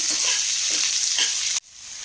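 Two large onions sauté in a pan for a brinjal chutney, making a loud, steady close sizzle with light stirring that cuts off abruptly near the end.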